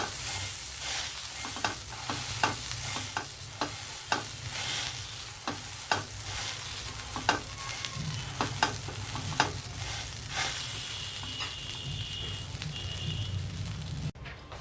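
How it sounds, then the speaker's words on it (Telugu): Chana toast fries in melted ghee on a pan, giving a steady sizzle with crackles and periodic scraping stirs throughout, close and without talk. "నెయ్యి కరిగిపోయి అటువైపు కూడా కాలితే ఇంకా మనం తీసేసుకోవాలి"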